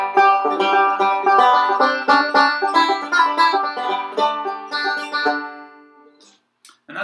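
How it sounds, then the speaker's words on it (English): A banjo is picked in Scruggs style with rolling right-hand patterns, a bright, rapid cascade of plucked notes that weave melody among chord tones, played close and clear before ringing out and stopping. "that's basically the general concept of how you play the scrug style on the banjo"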